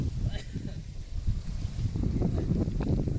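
Wind gusting outdoors in open countryside near streams and ponds at Muang Kham Koet, a steady rough rumble buffeting the microphone throughout, with a voice speaking faintly underneath.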